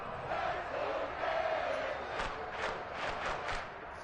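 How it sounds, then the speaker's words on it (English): A stadium crowd roars steadily in an American football video game featuring the Dallas Cowboys during the fourth quarter, swelling into loud cheering with a few sharp bursts near the end. "the crowd getting into it as we come up on a big third down"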